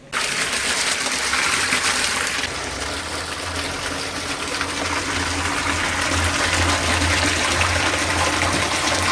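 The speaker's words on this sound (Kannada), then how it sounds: "ಬೋರ್ ಇದೆಯಲ್ಲ ಅದರಲ್ಲಿ ನೀರು ಆನ್ ಮಾಡಿದ್ರೆ ಇಲ್ಲಿ ಡ್ರಮ್ ಇದೆಯಲ್ಲ ಇದಕ್ಕೆಲ್ಲ ತುಂಬಿಸಿದ್ರೆ" Borewell water gushes steadily into a drum, a loud continuous pouring rush close by with a low pump-like hum underneath, no talking.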